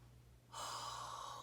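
A long, slow open-mouthed exhale, as if fogging a mirror, starts abruptly and holds as a steady, close, breathy hiss.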